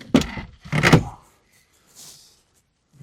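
The glove box of a 1st-generation Ford Fiesta XR2 Mk1, left standing for 26 years, is opened with two close plastic clunks and rattles, followed by a faint shuffle.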